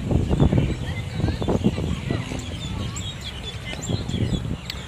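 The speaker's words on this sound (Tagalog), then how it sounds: "may ibon" Birds call faintly in Dahu Park, Taiwan, with scattered chirps over breezy outdoor background noise.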